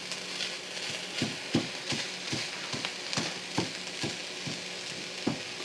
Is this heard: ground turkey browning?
yes